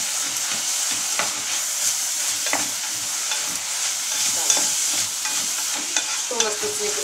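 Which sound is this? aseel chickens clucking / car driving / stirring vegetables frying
stirring vegetables frying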